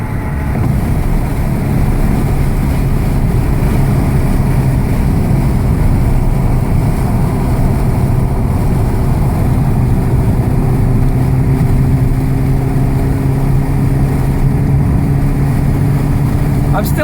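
A VW GTI MkV with an APR Stage K04 turbo engine pulls in 4th gear, a loud, steady engine drone heard from inside the car whose pitch climbs gradually.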